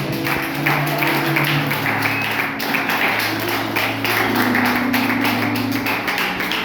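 Church congregation clapping in praise at a family worship service, a steady dense patter of many hands sustained throughout over a continuous background of music.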